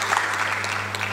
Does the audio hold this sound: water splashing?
no